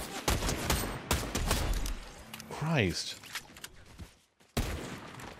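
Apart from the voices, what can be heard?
gunfire in a video game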